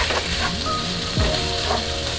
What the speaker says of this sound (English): Let the vegetables saute a little bit for a few minutes